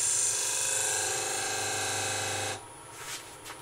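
Spindle gouge cutting a wooden goblet on a lathe, a loud steady whirring hiss with a low motor hum that stops abruptly, leaving a quieter background with a couple of soft knocks.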